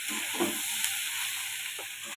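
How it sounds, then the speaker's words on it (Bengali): Boneless chicken with salt and chili powder stir-fried in a pan, a steady close sizzle with a few soft scraping stirs over about two seconds. "এবার সব এগুলোকে একসাথে নিয়ে ভালো করে ভেজে নেব।"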